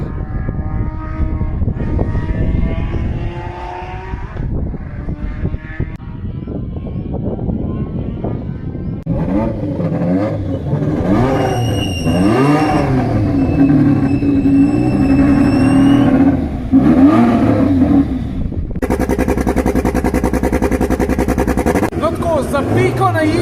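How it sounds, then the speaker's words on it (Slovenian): Roaring engine of a vintage rally race car that won forty years ago, driven by the same driver, revving loud and close in sustained swells with rising and falling pitch, with voices talking over it. "ko slišiš rjoveč stroj, ki je bil zmagovalen pred 40 leti in to z istim voznikom"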